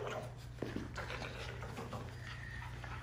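Puppies whimper and stir softly over a steady low background hum, with faint pattering and no talking.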